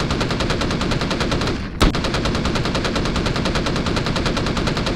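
A turret in the space survival game Empyrion Galactic Survival fires in a loud, rapid, unbroken machine-gun stream, pausing for an instant with a sharp crack before the relentless burst resumes.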